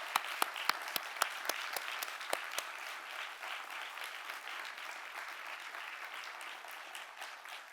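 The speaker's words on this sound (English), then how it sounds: "let's show our support for them in a warming round of applause" An audience at a refugee stories event breaks into warm applause, sharp individual claps at first settling into a dense, even wash of clapping that carries on steadily.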